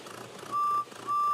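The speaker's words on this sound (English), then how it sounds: "Beep, beep. Goodbye, Bertie" Bertie the bus from a children's Thomas and Friends story sounds two steady, sustained horn beeps, loud and close, with a short gap between them and no voices.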